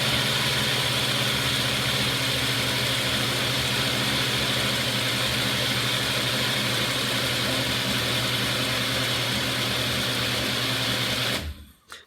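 A Nutri Ninja blender running steadily and loudly in a close, continuous motor whine for about eleven seconds before cutting off abruptly at the end.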